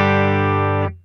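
A distorted electric guitar chord from a Hotone Ampero II Stage preset, played through a Fender Deluxe Reverb 1x12 combo cabinet impulse response, rings loud and sustained for under a second before being choked off.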